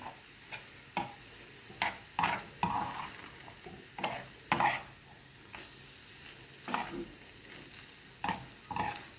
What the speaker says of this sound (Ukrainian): Гарненько все вимішаю.